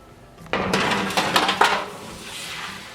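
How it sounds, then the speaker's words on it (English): Oven door clanking as a tray of Christmas sugar cookies goes into the oven: a sharp metallic knock, then a clattering rattle of metal on metal with a couple of louder clanks, close by and fading into quiet room tone. "we're gonna pop them in the oven now"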